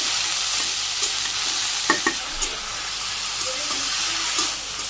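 Vegetable stems seasoned with salt, turmeric and chili powder are stirred in a pan, a steady close sizzle with a few sharp scrapes of the spatula against the metal, and no voices.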